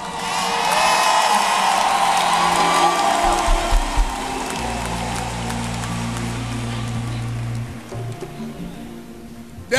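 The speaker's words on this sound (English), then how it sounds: "Are you celebrating or you are clapping?" A church congregation cheers, whoops and claps loudly during a sermon, with a dense crowd roar throughout and a low hum beneath.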